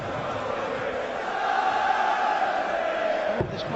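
A noisy darts crowd at a Premier League darts match, a steady dense roar of many voices with cheering and shouting swelling slightly midway, close and loud throughout, ending with a brief sharp knock.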